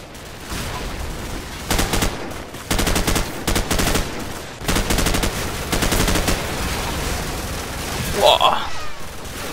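Call of Duty 4 Modern Warfare gunfire in a marsh battle, with repeated automatic bursts and scattered shots over ambient game noise while someone talks.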